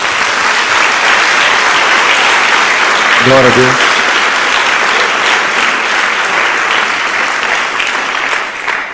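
A church congregation applauds loudly and continuously in praise of Jesus, a dense wash of clapping that fills the space while a voice briefly calls out over it.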